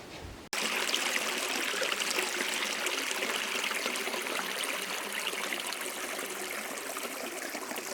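A creek runs over a limestone or sandstone bottom through a carved channel, giving a steady, close, bright rushing and trickling wash that starts abruptly and continues evenly.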